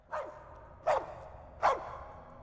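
Three evenly spaced single barks from a video game dog, triggered by a bark button, each short and fairly faint against near silence.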